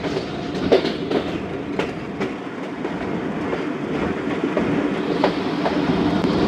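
The 130 Down Thal Express passenger train rolls along the rails with a steady loud rumble and repeated clickety-clack of wheels over joints, heard from on board with no talking.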